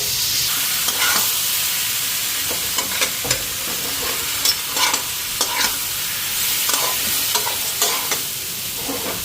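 Cabbage frying in a wok, a loud continuous sizzle broken by periodic scraping stirs of a spatula against the metal, close up.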